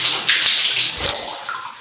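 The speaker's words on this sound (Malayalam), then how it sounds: "പൈപ്പിൽ നിന്നും നല്ല തണുത്ത വെള്ളം വരുന്നത്" Cold water gushing from a household pipe tap into a bathroom container, a steady, close splashing rush that fades slightly toward the end, with no voices.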